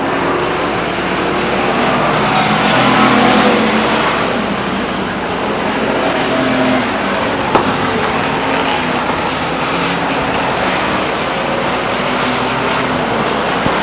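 Race cars roar around Stockton 99 Speedway in a steady, loud wash of engine noise, swelling slightly as they pass, heard from a distance in a broad continuous rumble.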